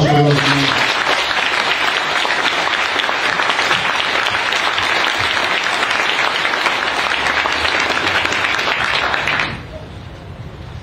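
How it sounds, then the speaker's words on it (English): A large crowd at a Marine Corps change of command ceremony claps for the Marines in sustained, even applause that holds for about nine seconds, then drops away abruptly into quiet room tone. "how about a big round of applause for those Marines?"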